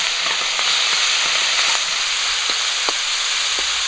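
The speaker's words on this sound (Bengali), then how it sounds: "বাকি মাছগুলো ভেজে নেব" Small mourala fish frying in hot oil, a loud, continuous sizzle with steady hiss, punctuated by faint occasional pops and taps, no voices.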